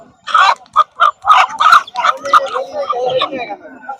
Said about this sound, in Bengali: হাঁস এটা রাজহাঁস